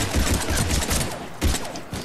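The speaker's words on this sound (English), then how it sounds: "I guess we can turn on this incinerate ammo and put on the pistol." Rapid pistol fire with incinerate ammo in the video game Mass Effect 3: dense, loud bursts of shots and impacts overlap in a busy battle mix, with a sharp blast near the end.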